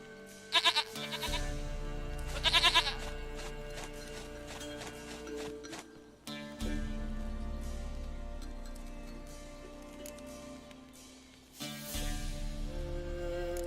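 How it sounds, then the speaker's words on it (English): A goat bleats in the video game The Witcher 3: two loud quavering bleats near the start, then long stretches of music-like tonal sound with a few sharp onsets, no talk. "Goat of mine, dearest, sweetest goat."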